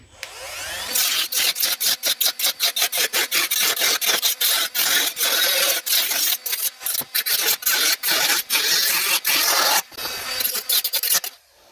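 Excess metal is trimmed off a Morris Minor inner wheel arch repair panel: loud, close, rapid rasping cutting strokes come in dense repeated bursts with brief breaks, and nobody speaks.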